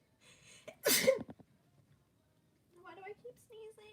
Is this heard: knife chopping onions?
no